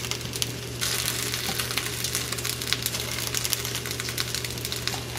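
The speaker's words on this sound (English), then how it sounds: "And then we're gonna grill it up." Nopales, or zucchini as a stand-in, rubbed with citrus and salt, sizzle steadily in a hot pan on the grill, a dense, continuous crackle with small pops throughout and no talking.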